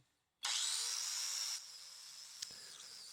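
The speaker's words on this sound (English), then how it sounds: "So hit it with the wire wheel." A wire wheel grinds against the rusty steel head of a double bit axe being restored, a loud steady whirring scrub that drops to a lower level partway through, with a brief sharp tick near the end.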